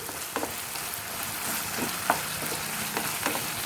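Mutton cooking with Bengal gram sizzles steadily in oil in a pan, with occasional sharp scrapes and taps as it is stirred. The frying is close and continuous, and nobody speaks.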